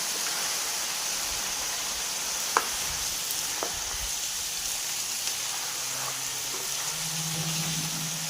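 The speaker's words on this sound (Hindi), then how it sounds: "इधर साथ में हमारा चिकन भी फ्राई हो रहा है।" Chicken frying in a pan gives a steady, close hiss with a few sharp pops and clicks, and a low hum rises near the end.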